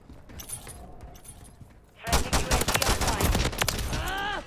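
Gunfire in Modern Warfare III: faint, scattered shots at first, then a sudden loud burst of rapid, dense fire that carries on to the end.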